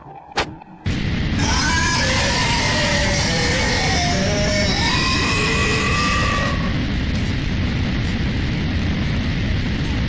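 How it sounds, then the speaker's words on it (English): Agonizing screams and crackling flames in the horror game Mad Father, a loud, roaring wash of fire noise with wailing, shifting cries over it for several seconds before the screams cut off and the roar continues. "the agonizing screams, the loud sounds of flames flickering"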